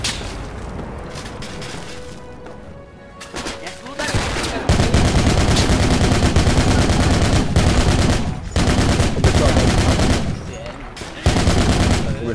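Near-constant gunfire in the Falklands War battle of the Project Reality game, with long bursts of automatic fire, rattling volleys and occasional booms, loud and close, broken by brief pauses.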